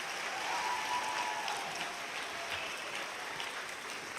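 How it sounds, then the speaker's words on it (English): Audience applause at the Miss Ohio pageant preliminary competition, a dense, even wash of clapping from a large crowd, heard at a distance and fairly faint, steady throughout. "Let's have another round of applause for all of these wonderful ladies."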